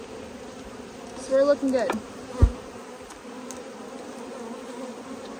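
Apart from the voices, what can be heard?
honeybees buzzing during a hive inspection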